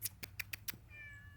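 A house cat meows five times in quick succession, each call short and close, followed by a faint, steady high tone as the meowing stops.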